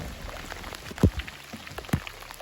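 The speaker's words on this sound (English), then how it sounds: "Wouldn't be a camping trip without a little bit of rain." Rain drops patter on a surface at a campsite, with a couple of heavier plops standing out against a soft, steady background.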